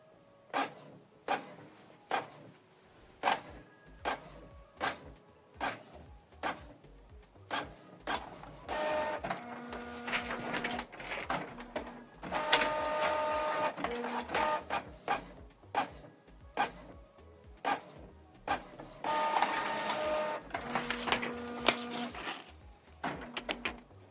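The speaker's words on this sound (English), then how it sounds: "It's printing out network configuration page." A Canon Pixma MG3650 inkjet printer prints a network configuration page, with rhythmic clicks and thumps at first, then whirring, sliding mechanical runs of paper feed and print-head passes, close and clear with no talk.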